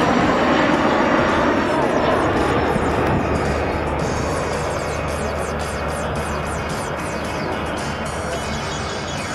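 A fixed-wing airplane landing at Toronto Island airport, heard from a distance as a loud, steady engine roar with broadband wind-like rush, slowly easing off, with no talk over it.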